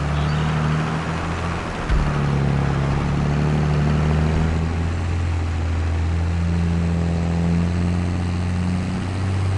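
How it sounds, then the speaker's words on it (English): Tractor engine laboring in Farming Simulator 22 with an old turbo, a loud low drone that strains and shifts pitch, dips and recovers briefly, then grinds on steadily with no talk over it. "It takes a lot to get a tractor to get up and go"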